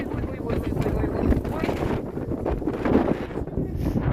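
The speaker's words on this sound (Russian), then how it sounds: "Он такой порывистый, что вроде бы спокойно идешь, а потом раз так порыв ветра тебя сносит." Blustery northern wind in Kirovsk buffets the microphone in continuous rough gusts, loud and close, with a faint rustle underneath.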